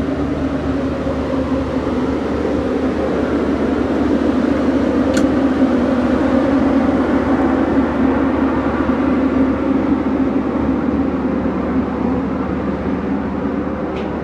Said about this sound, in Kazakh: Түркістаннан Алматыға аттайтын пойыздардың ішінде ең арзан пойыз осы екен